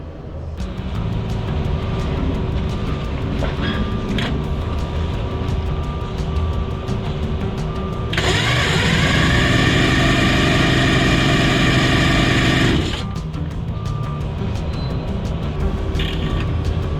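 A big-bore two-stroke engine with heavy compression turns over on its starter, giving a loud, rough, sustained cranking burst of several seconds that stands out above a quieter mechanical background before cutting off.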